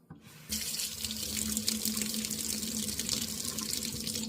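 A kitchen faucet runs steadily with cold water after a brief quiet start, water splashing into a sink with a constant broadband rush and a low resonant hum beneath.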